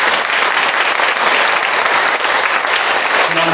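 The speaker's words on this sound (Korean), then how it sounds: "우리 박수 한번 쳐주세요." Sustained applause from a church congregation at a patient-visitation worship service at a veterans' church, dense and steady clapping throughout, fairly loud and close, with a faint tone entering near the end.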